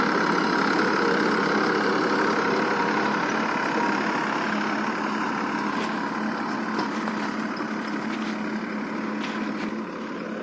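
A tractor engine runs steadily and fairly close, hauling bricks in the early morning. The loud, constant drone holds an even rumble and fades slightly near the end, with no talk.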